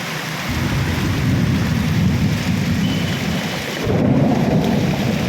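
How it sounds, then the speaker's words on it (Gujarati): Thunder rumbles low and heavy through a downpour in Khambhaliya village, two long rolling peaks over steady loud rain with no voices. "જોઈ લેજો, ગાજવીજ સાથે વરસાદ"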